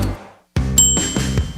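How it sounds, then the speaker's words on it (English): A single bright bell-like ding for a KFC chicken sandwich order, ringing clearly and sustaining briefly after a short silence. "That's the sound of your KFC chicken sandwich order."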